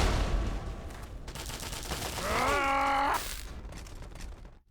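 Gunfire in a Fallout 3 firefight, dense crackling shots running under a groaning, wavering tonal sound that rises in the middle and fades toward the end.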